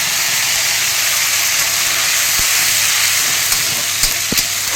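Cinnamon, cloves, cardamom and a paste of green chili, ginger and cumin with two dried red chilies sizzle loudly in hot oil, a constant close hiss broken by a few brief pops and clinks near the end.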